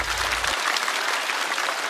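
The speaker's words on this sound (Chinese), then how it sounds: "掌声送给小帕" A stand-up comedy show's studio audience claps for a performer named Xiao Pa, a dense, steady wave of applause that stays loud and unbroken throughout.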